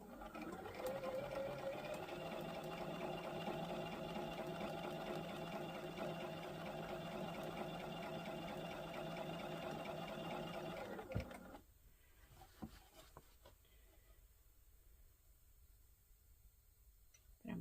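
A sewing machine stitches quilt wall-hanging pieces in a steady, rapid mechanical whir with fine rhythmic ticking for about eleven seconds, then stops abruptly, leaving quiet room tone.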